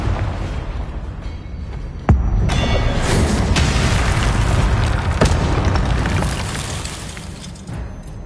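The Confringo fire spell from Hogwarts Legacy goes off in a loud, close boom, one sharp blast followed by rumbling crackle and a few smaller bursts that fade slowly.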